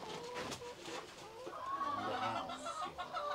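Chickens cluck steadily at a farm coop in Cebu, a close, moderately loud run of clucks and soft calls with a brief higher squawk near the end, and no talking.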